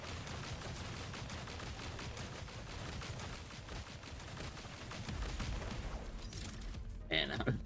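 Rapid gunfire in the video game Duet Night Abyss, a steady dense stream of shots running throughout at moderate level, with a louder burst near the end and a voice speaking over it.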